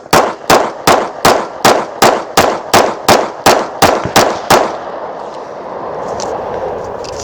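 Walther PPQ SC sub-compact pistol fired in a rapid string of about twelve loud, evenly spaced close shots, followed by fading echo and ambient noise.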